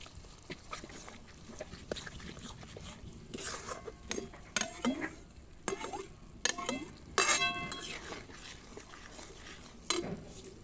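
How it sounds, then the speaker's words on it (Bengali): A rohu fish curry is stirred in a pan as mustard paste is mixed in, with repeated scraping and clinking of a utensil against metal, close and moderately loud, plus a brief sizzle. "সর্ষে বাটাটাকে ভালো করে মিশিয়ে নেব স্বাদ মতো নুন"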